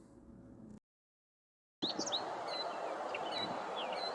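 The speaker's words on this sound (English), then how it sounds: "This little goldfinch let me get close enough to hear him singing in this big wind." A goldfinch sings in strong wind: quick high chirps and twittering notes sit over a steady roar of wind noise. The wind drops out briefly and then returns with the bird calling through it.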